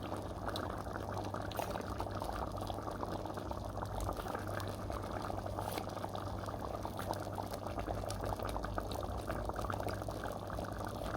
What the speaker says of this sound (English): Squeezing cream out of a box.